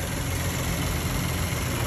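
Audi hybrid V6 car engine idling, a steady low rumbling hum, close and even with no changes in pitch or speed, heard alone.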